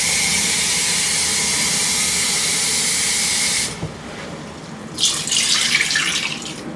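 Tap water runs in a steady loud hiss into a sink while raw chicken is washed with vinegar and water, then cuts off abruptly, followed by quieter splashing and rinsing sounds.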